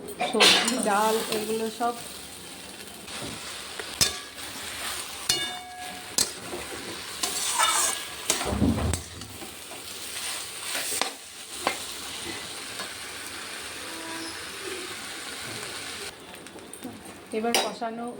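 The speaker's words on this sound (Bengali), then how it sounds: "এবার কষানো" Food being sautéed (kosha) in a pan, with scraping stirs, utensil clinks against the pan and a low sizzle, punctuated by sharper knocks, while voices speak intermittently.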